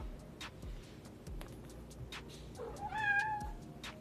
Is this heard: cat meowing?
yes